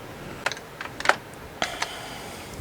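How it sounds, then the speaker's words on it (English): Keys clack on an old Compuadd 386 computer keyboard, a handful of sharp separate presses at irregular intervals, close by over a steady machine hum. "Keyboard works, that's a plus."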